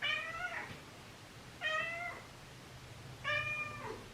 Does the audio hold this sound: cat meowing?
yes